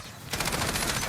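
An X95 MTAR-21 rifle in Call of Duty Modern Warfare fires a rapid, loud automatic burst that starts abruptly after a short quiet moment and continues without pause.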